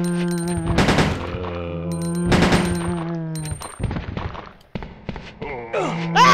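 Gunshots in Resident Evil 2 on PS1, several sharp bursts of fire mixed with groaning moans and tonal game sounds, separated by short gaps, with a voice talking near the end.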